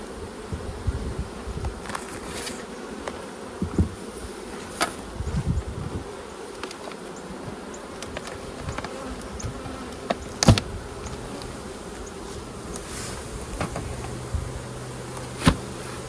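Honey bees buzz steadily from an opened hive, a close, continuous drone broken by sharp clicks and knocks from handling the frames.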